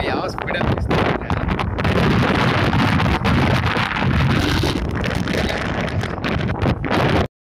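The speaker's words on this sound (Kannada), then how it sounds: "ಗಾಳಿ ನೋಡಿ ಯಾವ ಸ್ಪೀಡಲ್ಲಿ ಬೀಸ್ತಾ ಇದೆ." Strong wind gusts across open hill country, roaring loudly and almost without a break as it buffets the microphone.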